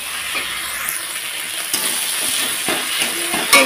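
Onion and garlic paste fries in oil in a pan for a fish curry with taro, giving a steady close hiss and sizzle with a few soft clicks of stirring and no voices.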